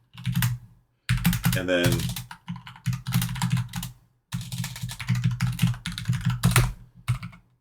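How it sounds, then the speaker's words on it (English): Keyboard typing while editing in vim, as bursts of rapid keystrokes in several runs under a voice speaking throughout. "I use 6S or however many letters it is and type the new term."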